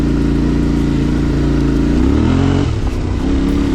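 A Yamaha Ténéré 700 (T7) adventure motorcycle fitted with Ohlins suspension cruises along with a steady, loud, close engine drone that shifts pitch midway as the rider changes speed.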